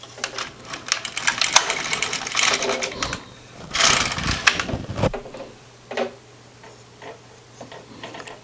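A flatbed knitting machine carriage sweeps across a row with a rapid clattering, ticking rattle, running in a couple of loud close passes followed by a few softer clicks.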